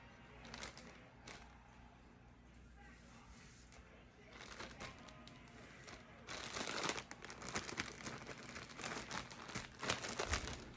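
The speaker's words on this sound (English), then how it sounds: "you're going to go ahead and zip up the bag, and then you're going to go ahead and give it a good shake" Chicken pieces rattle and rustle inside a zipped plastic bag of flour, with soft crinkling at first and then a louder, sustained burst of vigorous shaking that continues to the end.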